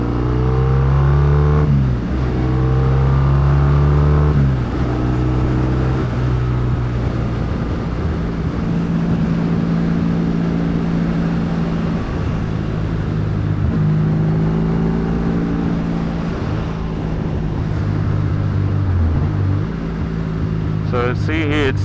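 A Triumph T140V motorcycle engine drones steadily while being ridden, a loud, close, continuous low rumble with small dips and surges in revs as the throttle shifts.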